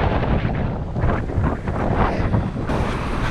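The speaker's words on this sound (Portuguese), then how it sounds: "Olha a força do vento." Strong wind in snowy Japan roars in a dense, steady rush with heavy buffeting against the microphone, loud and continuous throughout.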